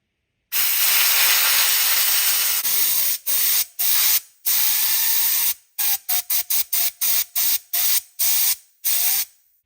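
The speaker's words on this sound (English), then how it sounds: "Step 5, blow the water out." Compressed air blasts water off the parts of a Rovan two-piece drag race transmission, first in a long loud hissing burst, then in a rapid series of short sharp spurts close by.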